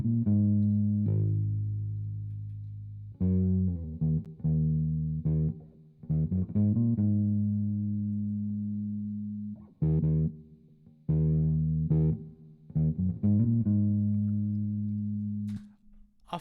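A bass line from the stock Amplitude 4 preset, soloed with heavy distortion and lots of reverb, plays alone as sustained, buzzy low notes in phrases separated by brief gaps, with long reverberant tails.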